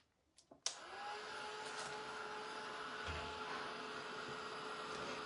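After a few clicks, a hair dryer switches on to dry paint on a stenciled piece, then blows a steady whirring hiss close by for several seconds.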